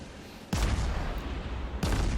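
Heavy naval guns firing in the warship game World of Warships, two deep booming salvos about a second apart, each a loud close blast that rolls on into a sustained rumble, with no talk.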